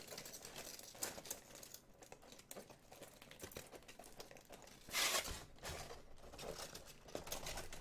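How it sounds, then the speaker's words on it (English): Scissors cutting through tinfoil to trace a template shape, giving close, crisp crinkling and snipping with irregular bursts and one louder tearing rip near the middle, no talk. "So now you take your scissors and you cut out the shape you drew out."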